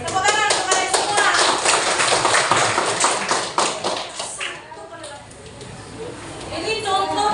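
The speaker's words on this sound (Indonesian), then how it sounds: "tepuk tangan untuk kalian semua" Audience members at a workplace training session clap for several seconds in a dense patter of hand claps that thins out partway through, with voices talking over and after it.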